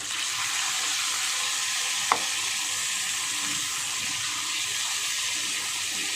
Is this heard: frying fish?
yes